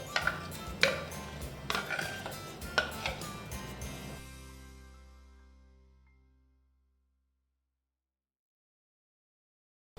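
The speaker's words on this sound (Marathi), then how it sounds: "हे मी भांड्यात काढून घेते" Moong dal paste being scraped from a mixer jar into a cooking vessel, with several sharp metallic clinks and pings of a spoon against the jar during the first few seconds, then fading to silence.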